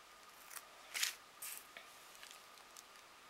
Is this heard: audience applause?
no